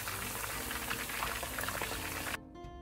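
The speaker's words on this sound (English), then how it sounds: "Fry in the medium heat oil." Pork pieces fry in medium-hot oil in a pan, giving a dense, steady sizzle and bubbling that runs close and loud, then drops abruptly to a quieter simmer near the end.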